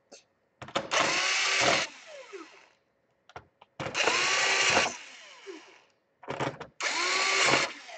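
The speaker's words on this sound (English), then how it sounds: "And this is a torque screwdriver" An electric torque screwdriver set to its lowest torque drives tiny screws on an Asus A53/K53 laptop, whirring close up in three bursts of roughly a second each, with brief clicks between.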